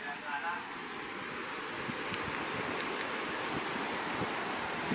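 Sea waves and gusting wind roar during Typhoon Kristine at night, a dense, steady wash of surf and wind noise buffeting the microphone, with faint sounds mixed in.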